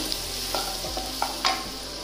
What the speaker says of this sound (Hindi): कड़ईटा मोर गरम होता मिसी से रसुण पकईबी।